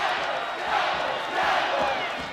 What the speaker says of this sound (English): Listen to this crowd inside Arena Auditorium.